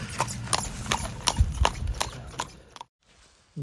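Horse hooves clip-clop in a brisk, even rhythm close by, then stop abruptly.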